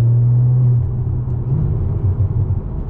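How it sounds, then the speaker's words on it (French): Rear-mounted engine of a convertible, heard from inside the cabin as a deep, hoarse, steady rumble with a louder opening moment, close and continuous with no voices. "On entend vraiment le moteur à l'arrière droit, à l'arrière derrière nous"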